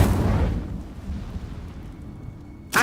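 The Incendio fire spell goes off in the video game Hogwarts Legacy during a Merlin trial: a loud, low whooshing burst that fades over a couple of seconds, followed by a sharp new burst at the end.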